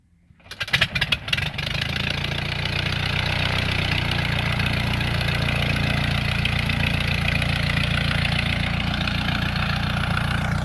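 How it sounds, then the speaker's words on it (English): The Ford Model A engine of a 1934 Pietenpol Aircamper catches after a few sputtering coughs, then settles into a steady, loud, close idle that drones on evenly to the end. "Listen to that Model A run."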